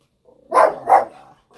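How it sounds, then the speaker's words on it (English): A pet dog barks twice in quick succession at a package delivery, loud and close, followed by a brief quiet moment and the start of another sound. "I had a package and that make my dog go absolutely insane"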